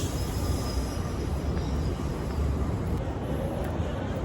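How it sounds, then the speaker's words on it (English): Steady low rumble of a passing GO commuter train in Toronto heard from a moderate distance, continuous and even, with a faint high squeal near the end. "See the GO train right there?"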